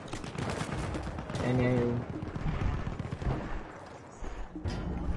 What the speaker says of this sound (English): Oh no, I'm getting shot.